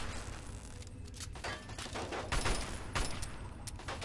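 Sustained turret gunfire in the Fallout 3 video game, a dense, steady rattle of automatic shots with a few louder bursts near the end, played without talk.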